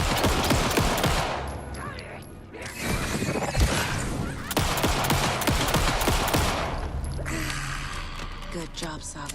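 Gunshots in Alan Wake II come as loud, sharp cracks in clusters against a dense, noisy combat backdrop, with a short lull in the middle and heavy bursts afterward.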